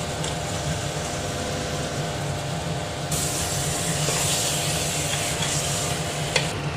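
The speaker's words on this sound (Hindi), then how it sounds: "अब मैं इसमें गोश्त ऐड कर देंगे, इसको अच्छे से मिक्स कर लें।" Mutton for a Mughlai curry stirred and fried in a pan, with a steady close sizzle and the scrape and rub of continuous mixing throughout, no voices.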